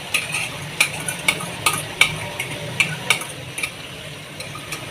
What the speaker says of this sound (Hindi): अब दही के साथ इसको थोड़ा सा हम लोग पका लेंगे चिकन को।